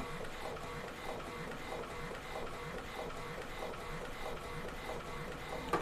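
An Epson L11050 inkjet printer runs steadily on its own, its mechanism whirring and clicking in a repeating rhythm, close and moderately quiet throughout.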